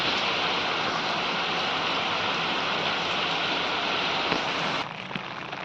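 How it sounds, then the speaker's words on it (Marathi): Rain falls in a constant broadband hiss that eases slightly near the end, with no one speaking. "आज घटस्थापनेचा पाऊस सुरुवात झालाय परत"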